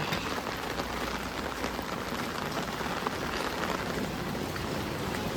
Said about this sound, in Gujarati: સુરતમાં વરસાદનું આગમન થઈ ગયું છે, પાણી ભરાઈ ગયા છે